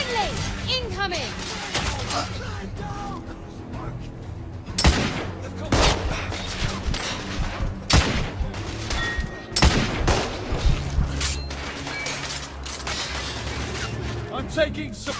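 Sustained gunfire in The Order: 1886, a steady fusillade of rifle and machine-gun bursts with sharp louder shots at intervals, mixed under game voices shouting throughout.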